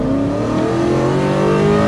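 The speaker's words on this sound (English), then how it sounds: "But a bit of acceleration. Hard acceleration." A 1965 Ford Zephyr fitted with a 1UZ V8 accelerates hard, its engine note loud and close, rising steadily in pitch for two seconds with no talk.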